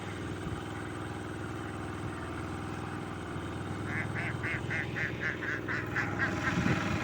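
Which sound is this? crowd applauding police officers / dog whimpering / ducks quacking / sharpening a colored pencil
ducks quacking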